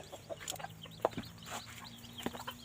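Bantam chickens, a small flock of hens and roosters kept at a rural home, cluck in short scattered calls, soft and moderately distant over a quiet outdoor background.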